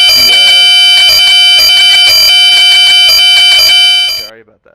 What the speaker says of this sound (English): that was their flight computers going off